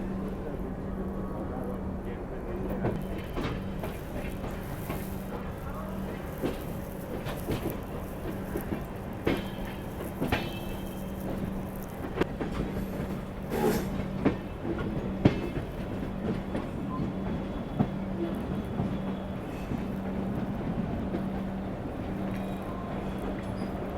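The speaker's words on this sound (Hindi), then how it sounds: "हमारी ट्रेन भी धीरे धीरे ट्रैक बदलते हुए अब मेन लाइन में एंट्री कर रही है" The Geetanjali Express rolls slowly across switches onto the main line near Howrah, giving a steady low rumble with a sustained hum and irregular clickety-clack wheel knocks throughout.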